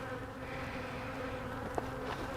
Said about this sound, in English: So I see a good population of bees right in here.